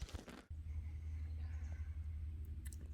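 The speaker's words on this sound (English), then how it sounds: "I just heard a big rumble of thunder." A deep, steady low rumble rolls on for a few seconds after a brief burst of noise at the start, distant thunder heard outdoors by the Murray River.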